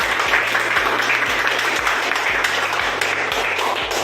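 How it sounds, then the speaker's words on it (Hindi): An audience at a business event claps for tour qualifiers, continuous broad applause with a regular low thumping beat running underneath it. "उन सभी के लिए मैं जोरदार तालियां बजाना चाहता हूं"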